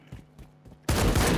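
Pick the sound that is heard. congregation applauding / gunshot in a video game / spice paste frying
gunshot in a video game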